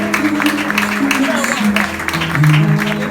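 Wedding guests applaud in a steady, dense wash of clapping that runs throughout, with voices talking over it.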